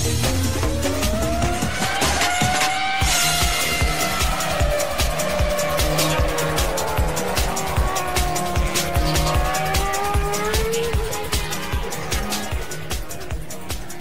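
A Jordan Formula 1 car pulls out of the pit lane, its engine droning in a steady, gently rising and falling tone. A rhythmic pulsing backdrop carries on beneath it throughout.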